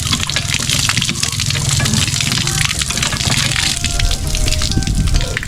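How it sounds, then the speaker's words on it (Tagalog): Water gushing steadily from a manual hand pump on a small farm, a continuous loud splashing flow close by, with no talk. "yun lang po mamanual pump"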